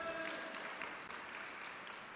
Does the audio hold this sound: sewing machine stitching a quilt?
no